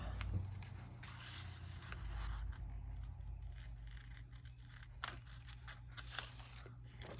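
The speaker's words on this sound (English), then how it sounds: "I'm going to use my bigger scissors." Large scissors cut paper for a junk journal craft, quiet crisp snips and crunches at irregular intervals, close by and faint.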